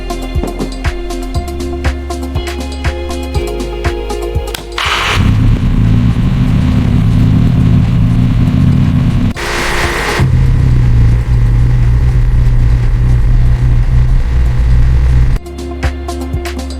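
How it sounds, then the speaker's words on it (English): A restored Pagani that sat in a barn for ten years drives out, its engine rumbling deep and loud in long sustained passes with a brief rev in between, and no one talking. "now she drives out like a brand new Pagani."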